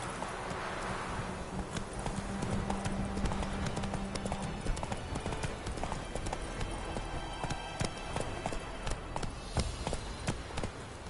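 A horse gallops in the Witcher 3 video game, its hoofbeats a steady rapid clip-clop across the whole stretch, moderately loud, with rustling and ambient game sounds behind it.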